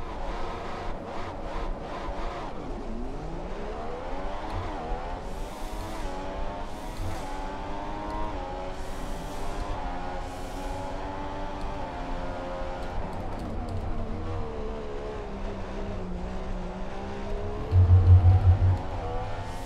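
Formula 1 cars racing at the Hungaroring in the game F1 2015, a continuous high engine whine rising and falling through gear changes, with other cars whooshing past and a short burst of rumble near the end.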